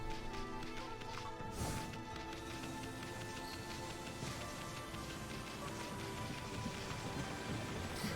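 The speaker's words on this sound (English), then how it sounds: "Because there's like a storm raging just outside of this village." A rainstorm rages outside a village in the video game Okami: steady, dense rainfall with a rumble of thunder near the start, loud and continuous throughout, with no voices.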